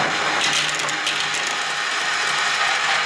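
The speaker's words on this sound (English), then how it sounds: "There goes the motor again." Motor of a Matchbox Cascade marble game running steadily, a continuous close mechanical whirr with faint ratcheting clatter of gears throughout, no voices.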